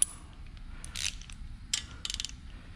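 A torque wrench set to about 8 to 9 foot-pounds clicks on a rocker box bolt of a Harley-Davidson Twin Cam engine, giving a few short, faint metallic ratchet clicks and taps in a quiet workshop.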